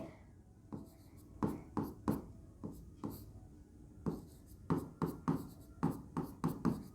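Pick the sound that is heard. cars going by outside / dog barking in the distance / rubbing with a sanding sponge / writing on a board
writing on a board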